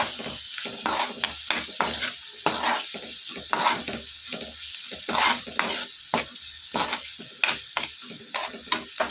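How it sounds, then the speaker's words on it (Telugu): Amaranth and spinach with turmeric fry in a pan while a spoon stirs them, giving repeated irregular scraping strokes over a steady soft sizzle, close and moderately loud. "కొద్దిగా పసుపు వేసుకుని బాగా మిక్స్ చేసుకోవాలి"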